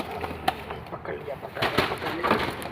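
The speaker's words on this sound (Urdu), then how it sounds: "یہ کبوتر کا بچہ ہے" Soft cooing of a young pigeon chick close by, mixed with rustling and handling noises and some low voice-like murmurs.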